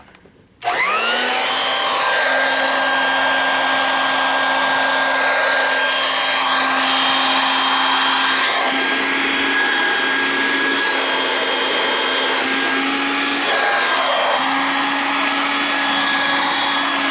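A Dirt Devil 503 handheld vacuum switching on and running on straight suction, a loud steady motor whine with a sustained tonal hum that wavers slightly, running alone.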